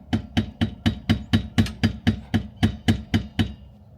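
A flathead screwdriver struck repeatedly to pry loose an RV brake part: about fourteen sharp, evenly spaced metallic knocks, close and loud, quickening slightly before fading out.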